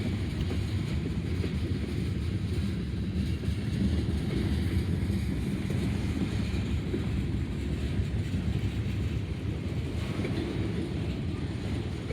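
A freight train hauling loaded auto rack cars rolls past in Greenwich, Ohio, a continuous low rumble and rattle of wheels on rail that holds steady throughout, mixed with outdoor wind buffeting the microphone; no voices.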